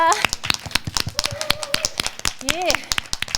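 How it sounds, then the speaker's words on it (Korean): Scattered, irregular clapping rings out during a church children's worship service, with sharp hand claps spread across the whole stretch and excited voices calling out over it near the end. "주님께 감사와 영광의 박수 올려드리겠습니다."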